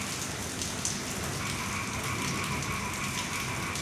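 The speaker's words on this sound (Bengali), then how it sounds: "মাছের এক পিঠ ভাজা হয়ে গেছে।" Fish fries in a pan of hot oil with a constant, dense sizzle and crackle like rain on a surface, heard close up and steady, with no talking.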